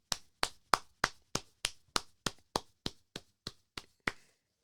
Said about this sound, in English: Let's give a round of applause for Donald Trump.